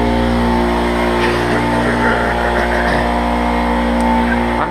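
A Craftsman air compressor running after a repair: a steady, loud motor drone with a constant tonal whine and a busy rattling layer, heard close up without speech.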